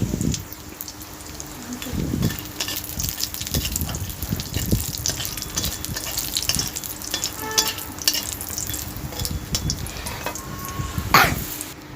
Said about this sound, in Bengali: তো আমি এখানে অল্প করে বড়ি ভেজে নিচ্ছি।